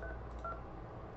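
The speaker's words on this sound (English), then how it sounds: "I'm going to go ahead and dial the number" A faint, brief run of telephone keypad dialing tones, a few short beeps over a low background hum.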